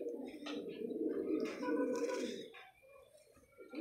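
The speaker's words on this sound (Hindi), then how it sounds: "ये जो है ना लाखी कबूतरी, ये लौट आई थी खुद ही खुद" A pet pigeon coos in soft, rolling low-pitched phrases, close by but quiet, with a brief break and a fainter coo near the end.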